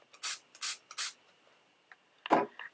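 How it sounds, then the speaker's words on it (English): Several short spray bursts from an e.l.f. makeup setting spray onto a beauty sponge, three quick hisses close by, a pause, then a softer rustle of handling. "I'm going to take my little beauty sponge and I'm going to spray it down with the e.l.f."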